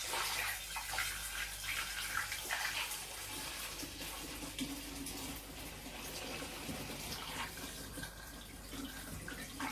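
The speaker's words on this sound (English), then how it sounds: "we take our mixture and we pour it in carefully" Liquid mead mixture poured steadily through a funnel into a container, a continuous close splashing trickle of water-like flow running the whole time without talk.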